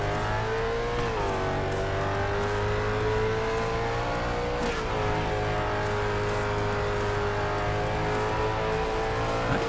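Dodge Viper GTS race car in a Need For Speed No Limits game, engine roaring steadily loud with rising pitch as it accelerates, a gear shift near one second and another around five seconds, nitro boost pushing the revs.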